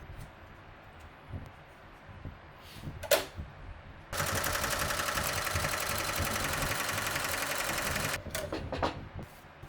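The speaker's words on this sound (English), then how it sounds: "stitch the tack down line" An embroidery sewing machine stitches a tack down line on fabric for an in-the-hoop nativity scene, a steady rapid mechanical rattle lasting about four seconds between quieter handling noises.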